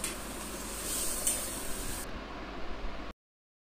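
Fish and potato curry for mourola fish jhal chorchori bubbles and sizzles in a wok, a close, steady hiss with faint stirring scrapes that cuts off abruptly near the end.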